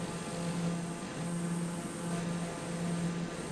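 Steady drone of a turboprop aircraft engine in a flight simulator game, a continuous propeller hum with a low pulsing tone that holds even and unbroken throughout.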